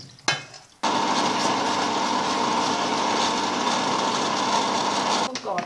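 A blender whirs at high speed, grinding fresh garden chili and tomatoes for sambal, its loud steady motor drone starting abruptly after a short bump and stopping near the end.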